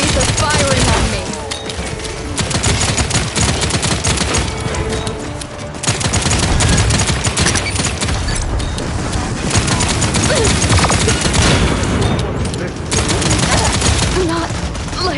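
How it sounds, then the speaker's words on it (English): Enemy gunfire in the shooter game Paladins: dense, loud bursts of rapid shots and impacts crackle almost continuously, with brief lulls between volleys. "Enemies are firing on me."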